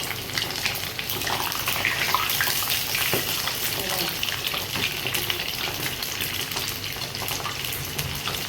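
Chicken lollipops frying in oil in a small pan, a steady loud sizzle and bubbling lasting throughout with a few clinks of handling.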